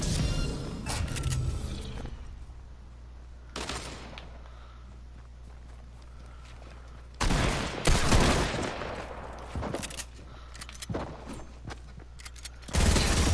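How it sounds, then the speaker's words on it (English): Gunfire in a shooting video game, with sharp loud bursts of rapid shots arriving in clusters separated by quieter stretches, some shots close and others more distant. "I hear gunshots."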